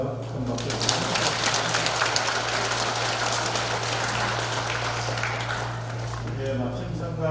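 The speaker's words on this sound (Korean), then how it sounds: "신부님께 다시 한번 더 큰 박수 드립니다" Sustained applause from a church audience for a priest after his lay-mission lecture, steady dense clapping over a low hum for several seconds with some voices mixed in.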